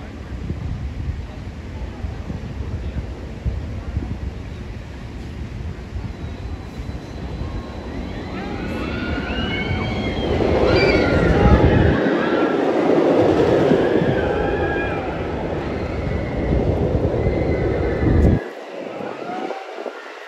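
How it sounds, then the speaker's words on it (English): A dueling roller coaster ride builds into a loud rumbling rattle of cars on track, with screaming riders and shifting pitched whines as the trains race, fading at the end. "Here they go, dueling roller coaster."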